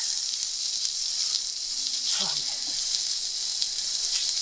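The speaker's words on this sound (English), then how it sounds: "You need to keep flipping the meat over." Meat sizzles in a frying pan with butter, a steady close hiss and crackle running the whole time, with a brief clatter of movement partway through as the meat is flipped.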